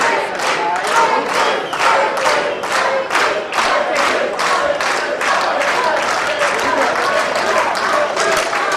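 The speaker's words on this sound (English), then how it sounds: "Crowd starting to get behind Steamboat." A wrestling arena crowd cheers and applauds loudly and steadily, dense rhythmic clapping bursts repeating throughout under a roaring mass of voices.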